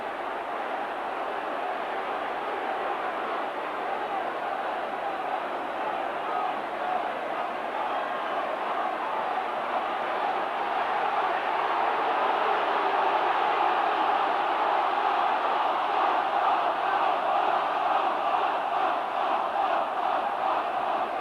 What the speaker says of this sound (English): the crowd shouting for Harvey Howard to be sent off